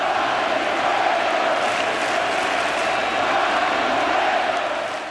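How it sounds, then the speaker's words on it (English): A packed crowd at a 2015 World Series game in Kansas City roars steadily in the ninth inning, a loud sustained wash of cheering and whoops with no break. "this crowd was anxious to see Cueto pop out of that dugout"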